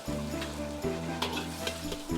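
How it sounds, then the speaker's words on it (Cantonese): Pomfret deep-frying in hot oil at a Hong Kong cha chaan teng kitchen: a steady, close sizzle and bubbling runs throughout, over a constant low hum of kitchen equipment. "肥美嘅鯧魚喺熱油中浸泡，炸出誘人嘅金黃色。"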